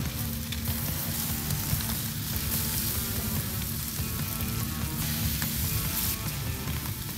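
Pineapple slices and pork chops sizzle on a Po' Man grill, a loud, continuous crackling hiss that stays steady and unbroken, with no voices.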